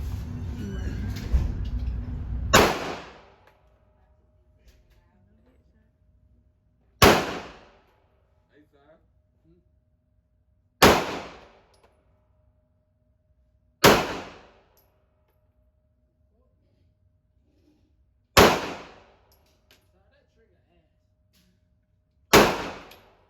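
High-powered guns fire at an outdoor gun range: six loud, sharp shots spaced a few seconds apart, each cracking out and ringing down to near silence, after a short stretch of low rumble and voices.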